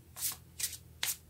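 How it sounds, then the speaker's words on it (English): Tarot cards are shuffled in three quick, crisp riffling bursts with short pauses between them; close and fairly soft, with no talking. "When the cards don't shuffle smoothly for me, I know it's time to keep shuffling until they smooth out in a certain way."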